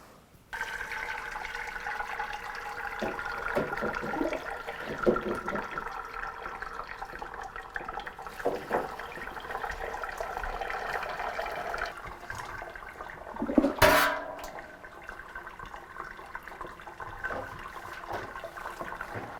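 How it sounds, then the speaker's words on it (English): Cranberry juice pouring and splashing through an old pillowcase used as a strainer to catch the seeds, a steady watery trickle running throughout with a brief louder gush near the end. "just pour this through an old pillowcase to collect all those little seeds"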